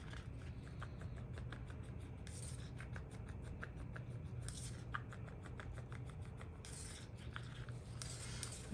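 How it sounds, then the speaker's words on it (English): A tool scrapes the sides and bottom of a mixing cup of mica-tinted resin in a quiet room, giving a faint, rhythmic series of scratchy strokes with a few brief louder swipes. "just scraping the sides and the bottom really good"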